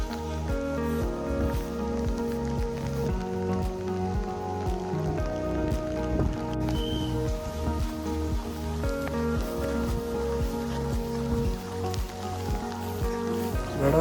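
Rain falls steadily at Avchit Gad hill fort near Roha, an even patter of drops on surfaces around the listener, continuous and fairly loud throughout.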